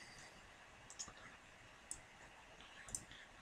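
Three faint, sharp computer mouse clicks spaced about a second apart over quiet room hiss, no speech.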